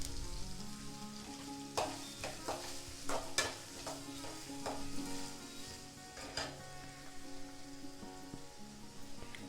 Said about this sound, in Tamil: இந்த வெங்காயத்தை நல்லா வதக்கிக்கலாம்.